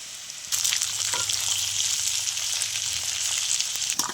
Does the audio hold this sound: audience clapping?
no